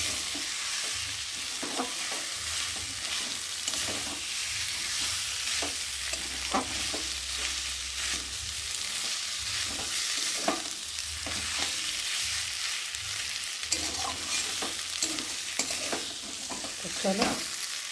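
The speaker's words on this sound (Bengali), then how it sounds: "রেখেছি সেই আলুগুলো এখন এর মধ্যে ঢেলে দেবো। দিয়ে ভালো করে মশলার সাথে আলুটাকে নাড়বো।" Potatoes stirred with spices in a frying pan, a steady background sizzle with repeated scraping strokes of the stirring utensil at an uneven rhythm, close and alone without any talk.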